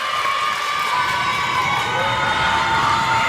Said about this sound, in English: Crowd getting into it too.